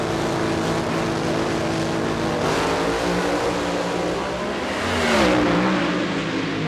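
Drag racing cars at the Pioneer Keystone Nationals in Reading, Pennsylvania, including Bob Newberry's Keystone Automotive Oldsmobile and Pat Austin's car, roar continuously at high volume, with a surging rise in engine pitch near the end.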